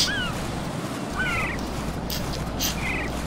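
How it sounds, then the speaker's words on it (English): Birds squawking in Metal Gear Solid 2: Sons of Liberty, several short harsh crow-like calls over steady game ambience, alone without talk. "Fuck off, birds."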